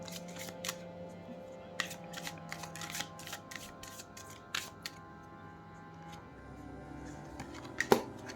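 Large tarot cards being shuffled by hand, a series of quiet papery riffles and sharp snaps in irregular bursts over faint background hum, with no one speaking.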